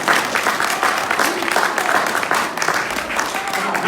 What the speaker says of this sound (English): Then give yourself another round of applause.